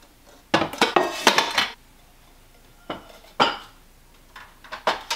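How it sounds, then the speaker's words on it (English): Golden Korean metal pots clink and clatter as they are handled, in several bursts of sharp metallic knocks with short quiet gaps between them, close and fairly loud with no talking. "I want to decorate with these golden Korean pots."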